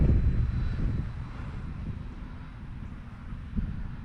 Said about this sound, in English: the wind is so great right now